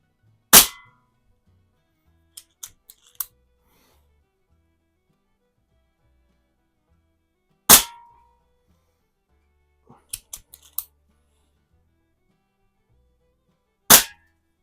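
Three sharp gunshots fired at a can crack out loud and close, spaced several seconds apart, each followed by a few faint metallic clinks and rattles.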